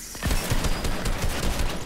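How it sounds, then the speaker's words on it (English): A shotgun in the Fortnite video game fires in a loud, continuous burst of rapid overlapping blasts that lasts the whole moment, close and dense with no pause. "That shotgun is doo-doo"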